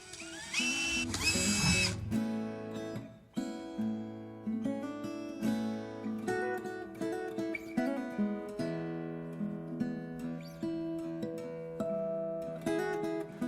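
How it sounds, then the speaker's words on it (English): A power drill bores holes in a plastic worm farm tub, a loud, harsh whirring burst lasting about two seconds at the start, followed by steadier tonal sound without speech. "So let's get drilling."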